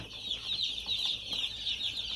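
Chickens clucking on a pasture farm, a steady flock chatter close by that continues unbroken, with no talk over it.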